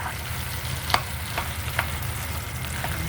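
Biko, Filipino sticky rice cake, is stirred as it cooks in a pan, giving a steady close sizzle with occasional scraping knocks of the spoon.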